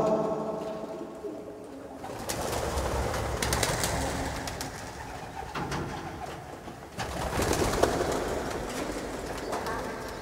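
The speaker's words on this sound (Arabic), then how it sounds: "الحمام هو باغي يهبط هو بداك يهبط" Pigeons coo in a steady outdoor chorus while flocks circle and come back down to land, the calls fairly close and continuous, with soft wing noise and no talk.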